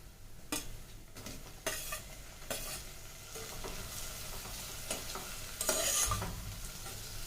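Tomatoes go into a hot frying pan and are stirred, with a soft sizzle under repeated clinks and scrapes of a spoon against the pan, growing busier toward the end.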